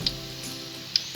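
Onion frying in oil while cooking keumamah with asam sunti: a steady, fairly quiet sizzle hisses throughout, with two brief sharp spits near the start and end.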